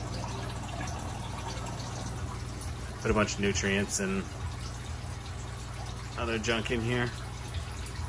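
A water pump circulates water through a basement hydroponic grow system, with a constant low hum and faint trickling running underneath, while someone talks over it in two short bursts.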